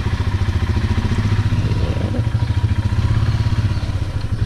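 A Royal Enfield Himalayan motorcycle, loaded with luggage and ridden on a rural road, thuds close by with a regular low single-cylinder pulse, steady throughout the short stretch and with no talk over it.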